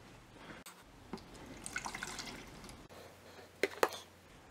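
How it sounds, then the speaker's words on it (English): 50-50 coolant pouring out of a container, with faint liquid trickles and drips, a couple of louder splashes near the end, and handling noise in a quiet space. "we're going to pour this coolant out, then pour transmission fluid into it"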